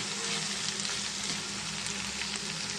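Onion and tomato sizzle and fry in a pan for an egg omelette curry, giving a continuous close crackle with faint stirring and no talk.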